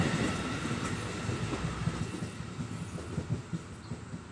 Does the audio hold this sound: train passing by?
yes